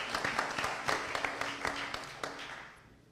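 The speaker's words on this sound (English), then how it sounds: "So I would give yourselves a round of applause." Scattered applause from a modest audience at a 2019 candidates forum at the Lake Worth Playhouse, individual claps audible in a small room, tapering off toward the end.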